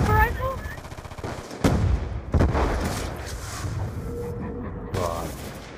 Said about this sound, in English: Oh my god, I sniped that guy!